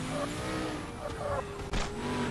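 Car engine revving steadily with a sharp jolt midway, driven in the zombie game Dead Rising 3; constant loud motor hum with faint tire noise.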